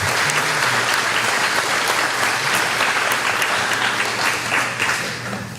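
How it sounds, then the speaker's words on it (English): Sustained, dense applause from a graduation audience honoring teachers and staff, even and loud from start to finish with no talk over it. "Could I please get a round of applause for the New Day teachers and staff?"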